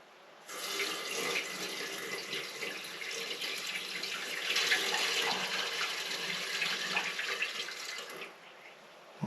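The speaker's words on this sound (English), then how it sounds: "And I'm going to pour this in the tank." Liquid pours steadily into a BMW 1150GS motorcycle fuel tank during a tank relining job, a continuous close splashing hiss that runs for several seconds and stops abruptly.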